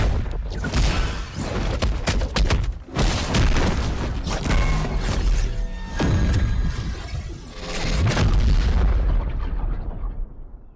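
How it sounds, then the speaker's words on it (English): Heavy synthesized explosion sound effects with deep low-end booms, built in Serum 2: a dense, loud run of overlapping blasts and rumbles with crackling debris, dipping briefly between hits before swelling again. "This one had a ton of low end in those explosions."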